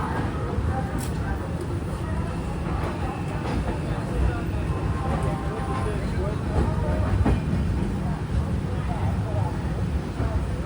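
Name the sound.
Mangala Lakshadweep Express departing Hazrat Nizamuddin station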